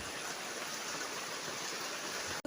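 Rain falling steadily during a downpour at a house, collected in pots and buckets, a soft even hiss with no distinct drops, heard faintly and without talk.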